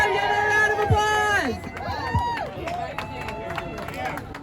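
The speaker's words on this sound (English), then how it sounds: "give her a round of applause" A street rally crowd at 12th and Market Streets breaks into applause mixed with whoops and cheering voices, loud at first and then thinning into scattered claps and calls.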